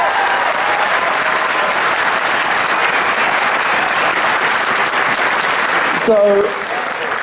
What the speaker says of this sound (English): Can we get a round of applause for everyone?